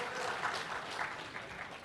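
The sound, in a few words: audience applause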